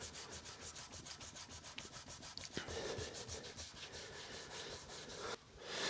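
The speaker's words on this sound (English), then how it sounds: "I'm not going to bore you with hours and hours of sanding" Steady rhythmic hand sanding of a lacquer finish on a Flying V guitar, a quick back-and-forth scratching rasp repeating evenly, close to the microphone.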